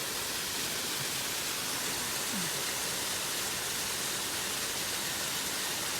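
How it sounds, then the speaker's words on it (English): Darwin Falls in Death Valley pours steadily, a constant broadband rush of falling water heard close and loud for several seconds, with no voices. "But in the middle of Death Valley is this waterfall."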